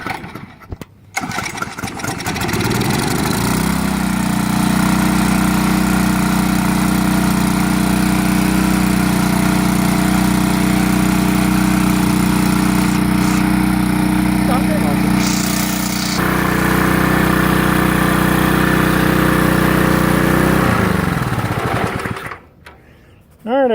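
A small engine running after its carburetor and gas tank were cleaned. It catches after a brief struggle, settles into a steady, loud drone for about twenty seconds, shifts pitch slightly midway, and then shuts off.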